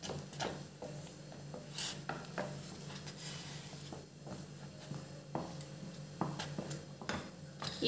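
A thick jamun fruit halwa is stirred in a pan over a low flame, giving soft, irregular scraping and rubbing strokes of a spoon against the pan, close by and fairly quiet, with no talking.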